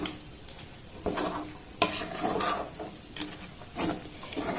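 Rice flour and maida being mixed and rubbed together by hand in a bowl, soft irregular rustling scrapes and brushing bursts at close range, quiet and with no talk.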